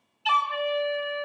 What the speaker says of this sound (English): This is how you do a cut on your low D.